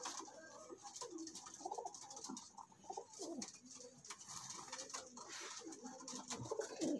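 Pigeons coo softly and repeatedly in low, throaty murmurs, several birds overlapping at close range with faint rustling.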